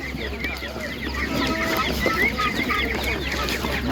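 Chickens and roosters at an animal market cluck and squawk in a dense, steady chorus close by, with a low background hum and occasional voices mixed in.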